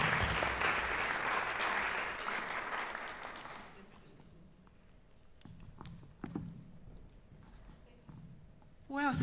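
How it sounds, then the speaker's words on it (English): Loud applause from a business conference audience fills the first few seconds, then fades away to a quiet room with scattered movement and a brief voice. "Give her a big round of applause, everyone."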